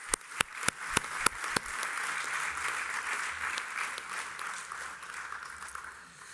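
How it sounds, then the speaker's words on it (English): A congregation at a church general meeting bursts into sustained applause after a few sharp opening claps, the clapping spreading into a steady, moderately loud wash that holds evenly for several seconds. "Can we give him a round of applause?"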